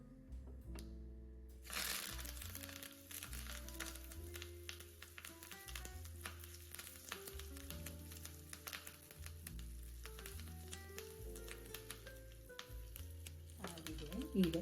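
Curry leaves and dried red chillies drop into hot oil for a drumstick sambar tempering, setting off a sudden crackling sizzle that settles into a steady, fairly quiet spitting with small pops.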